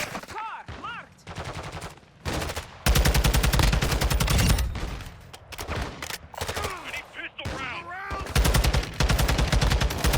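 Sustained automatic gunfire rattles in long, dense bursts in the video game Call of Duty Modern Warfare II DMZ, loud and close, broken by short pauses, with someone talking intermittently between the volleys.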